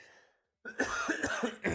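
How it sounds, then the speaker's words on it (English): A close, rough cough with throat clearing, several harsh bursts in quick succession after a short silence. "I apologize for the cough, y'all"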